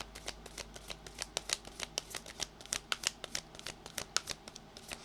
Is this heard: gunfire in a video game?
no